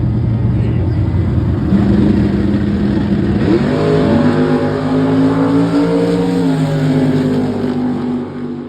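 A Chevrolet Camaro drag race car at Gulfport Dragway launches and accelerates hard down the strip, its loud engine note rising through gear changes above steady crowd and track noise.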